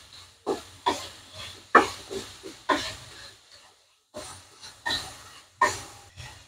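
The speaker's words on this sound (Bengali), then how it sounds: "এখন আমি এটা একটু ভেজে নিব।" Carrot, capsicum and tomato fry in a pan for a garlic spicy mushroom dish, giving off intermittent sizzling hisses in short bursts, loud and close, with a brief quiet gap midway.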